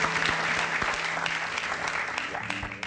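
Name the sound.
audience applause welcoming a guest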